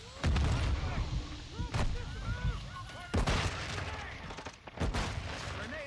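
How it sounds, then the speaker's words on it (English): Grenade explosions in Call of Duty MW2, several loud booms and blasts spaced a second or two apart amid ongoing gunfire and game noise. "Throwing so many nades."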